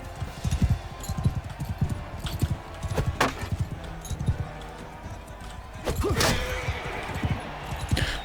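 A horse's hooves clop in a quick, uneven galloping rhythm in a video game battle, with occasional sharp clashes and impacts mixed in, fairly close.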